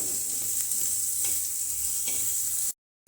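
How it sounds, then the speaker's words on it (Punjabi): Carrots and onions fry in a pan as pasta sauce gets started, a steady close hiss of sizzling with a few soft stirring scrapes, no voices, ending abruptly in silence. "ਗਾਜਰਾਂ ਨੂੰ ਪਹਿਲਾਂ ਪਕਾ ਲਵਾਂਗੇ ਪਿਆਜ਼ਾਂ ਦੇ ਨਾਲ"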